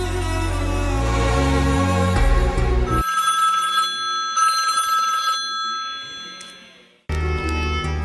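A telephone rings in a repeated electronic ringtone pattern, loud and close, stopping partway through before a musical passage returns; no speech is heard.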